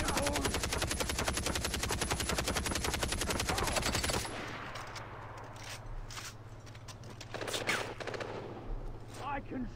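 Rapid automatic gunfire rattles in a fast, steady stream for several seconds in a Himalayan open-world shooter, then cuts off into scattered distant shots and background noise.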